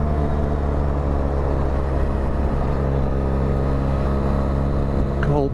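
A 2023 Benelli 502TRK adventure motorcycle with panniers pulls up a steep local hill, its engine droning steadily and loudly under load throughout.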